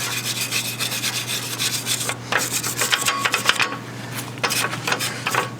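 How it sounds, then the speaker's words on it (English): A handheld brush scrubs rust off the steel frame of a 2018 Little Guy Max RV trailer. The rasping strokes are close and continuous and come in irregular bursts over a steady low hum, with no talking. "I guess I'll be taking it to the brush."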